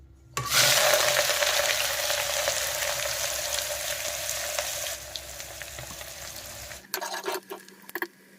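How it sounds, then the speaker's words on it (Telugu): Green chillies and onions hit hot oil in a pan for a mutton curry, erupting into a loud, dense sizzle that holds steady for several seconds, then cuts off, followed by a few knocks and clatters. "నూనె అయితే పోసుకున్నా మిరపకాయలు ఉల్లిగడ్డ వేసుకుందాం"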